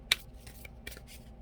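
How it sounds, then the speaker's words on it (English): Large oracle cards being shuffled, giving a few quick papery riffles and soft slaps in short bursts, close and fairly quiet. "For Taurus, these are big oracle cards. Let me shuffle this way."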